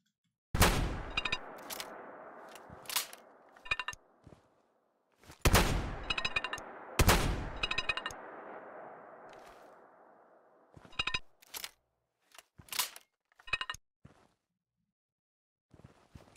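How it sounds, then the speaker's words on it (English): Cranky, cartoonish shotgun blasts from the game Don't Starve, a string of sharp, loud single shots with lingering rumbling tails, spaced irregularly, some in quick pairs, then thinning to shorter cracks toward the end. "Someone else have to comment on the cranky shotgun sound effect."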